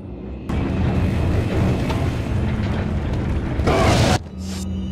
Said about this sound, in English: Now we're about to flame grenade these guys.